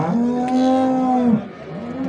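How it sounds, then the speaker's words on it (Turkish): A cow with a calf at a busy livestock market in Elbistan gives one loud, close, sustained moo, with a shorter low call starting as it ends. "Şurada buzağlı bir inek var."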